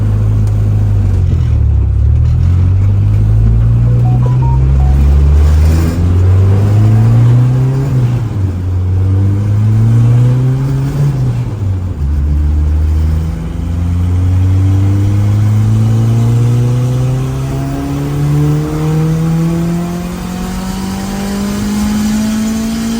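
A turbocharged Honda F20B engine with VTEC on low boost revs repeatedly, its pitch climbing and dropping in several loud, close pulls before rising in a final sustained run toward the limiter, with no talk.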